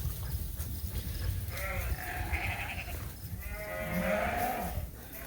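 Suffolk sheep on a farm bleat several times, a few overlapping calls at moderate distance over steady outdoor background noise.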